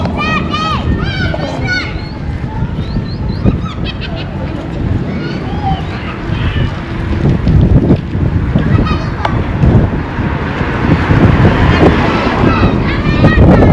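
Outdoor wind buffets the microphone at a road construction site in Bundung, The Gambia, a loud constant rumble with gusts swelling toward the end, under a busy background of birds and distant voices.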